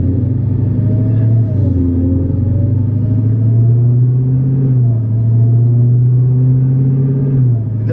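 Dodge Charger Hellcat with catless midpipes cruising at about 60, its engine giving a loud, deep, steady drone with slight pitch shifts as speed changes, heard from inside the car.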